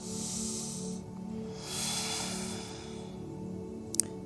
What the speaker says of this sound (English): Maybe you can hear me breathe.